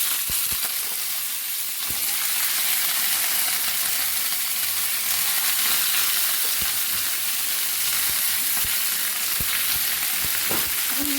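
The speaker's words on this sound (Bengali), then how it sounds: "এখন মাছগুলো ভেজে নেব।" Koi fish frying in a hot kadai with onions, a loud, continuous oily sizzle and hiss with occasional clicks and stirring sounds, and no talking.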